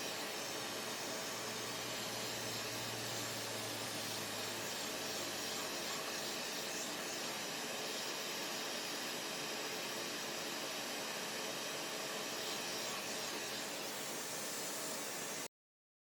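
A hot air rework station set to 480 °C and 99% airflow blows steadily on an Xbox One S board, a continuous broad hiss with a faint low hum early on, running for about fifteen seconds with no talking.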